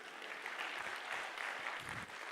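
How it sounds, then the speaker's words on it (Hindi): Audience applause at a leadership lecture session, a steady wash of many hands clapping together, fairly distant and even for the whole stretch with no speech over it. "ताली बजाते हैं प्लीज।"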